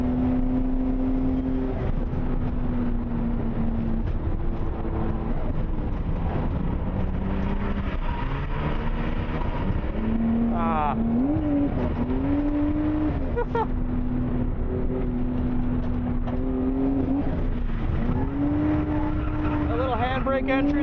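A Nissan A31 Cefiro drifts at wide open throttle in third gear, its engine droning loud and steady with rising and falling pitch under an in-car voice, with brief tire squeal.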